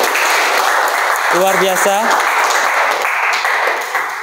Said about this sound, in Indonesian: berikan tepuk tangan untuk kalian semua.